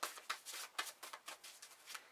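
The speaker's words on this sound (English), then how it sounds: "Sometimes when you're shuffling decks," A deck of tarot cards is shuffled by hand in a quiet room, giving a series of soft, quick riffling bursts and light taps in an irregular rhythm, close and faint, with no voice.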